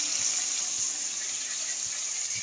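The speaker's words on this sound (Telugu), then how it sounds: "కొన్ని వాటర్ పోసుకొని చింతపండు అయితే నానబెట్టుకుందాం" Steady stream of tap water running into a vessel to soak tamarind for a gourd curry, a continuous bright hiss with a few soft low splashes, close and unbroken throughout.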